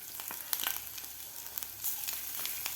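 Grated ginger with asafoetida and turmeric frying in hot oil for a matar aloo chaat, a soft steady sizzle with several quick spoon taps and scrapes while stirring, faint and without talk.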